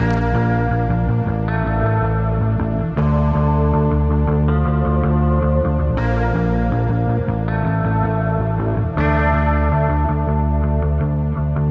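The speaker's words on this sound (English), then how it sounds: "So now we have 2 synths, 1 pan to the left and 1 pan to the right." Two layered synthesizers with heavy effects play steady chords, shifting every few seconds, one panned left and one right, spread wide across both sides.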